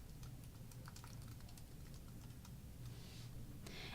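Fingers tap out a password on a computer keyboard while a WordPress user account is being set up, a quiet, steady stream of light clicking keystrokes against a low room hum, with no voices.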